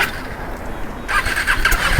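A Kawasaki ZX6R motorcycle engine cranks and catches, with a squealing starter and a revving mid-pitched engine note rising up close after a second of idle rumble.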